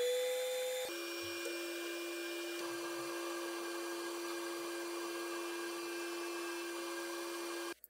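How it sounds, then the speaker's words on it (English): An FLSUN S1 Pro 3D printer prints a Benchy in matte black PLA, giving off a steady, close mechanical whine and hum of motors and fans that runs unbroken for several seconds with no talking. "clicked on the classic Benchy for the first test print"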